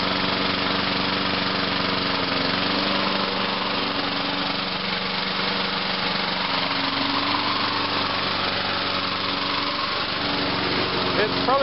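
A lawnmower engine runs steadily at close range with the gas turned on, as the mower is being winterized. Its high, buzzing drone stays continuous and even throughout.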